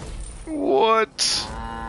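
Single drawn-out cow moo from a video game, fairly clear and close, followed by a short sharp noise burst, with no talking over it.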